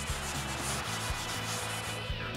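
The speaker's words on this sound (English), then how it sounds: "Between the third and the fourth coat, I rub everything with steel wool." Steady rubbing and scrubbing of steel wool over a cured wood finish on a home theater stand, a dense continuous abrasive hiss with faint rhythmic strokes, close up and alone.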